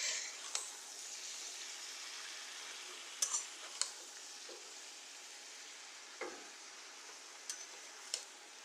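Keema and methi leaves sauté in a pan for a samosa filling, giving a steady soft sizzle with occasional spoon scrapes and clicks. The sound is quiet and close, and no one speaks.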